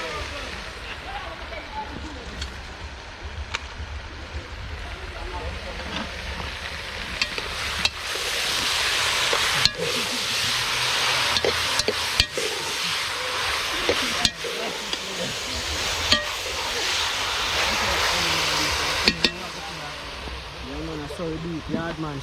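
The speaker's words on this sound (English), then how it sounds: "I'm going to stir the pot here now and cover it up" Meat fries in a pot over an outdoor fire at a riverside cooking spot in Jamaica, a steady sizzle with occasional scraping knocks from a spoon being stirred, while someone talks nearby.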